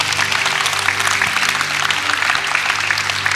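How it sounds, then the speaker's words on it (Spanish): A church congregation at a Palm Sunday service claps loudly and steadily, a thick wash of many hands throughout with a faint low hum beneath. "Dale un fuerte aplauso al Señor."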